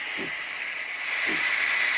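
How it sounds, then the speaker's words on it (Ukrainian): A Severin home espresso machine lets out a steady, broad hiss of steam at close range, continuous and fairly loud, with two faint low knocks underneath. "І зараз вона почне качати нам пар."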